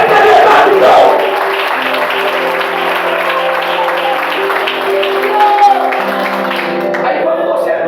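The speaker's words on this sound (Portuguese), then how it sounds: "bate palmas, só para ver que é verdade" A church congregation claps in a reverberant sanctuary while sustained instrumental music and scattered voices carry on. The applause is loud at first, then thins under the lingering tones.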